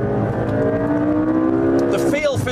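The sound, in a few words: 2014 McLaren MP4-12C Spider twin turbo V8 driving fast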